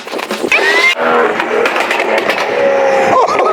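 A car's exhaust shoots flames with loud pops and crackles over a roaring engine, a dense, continuous burst of sound close by, much like race-car or tuned-car antics.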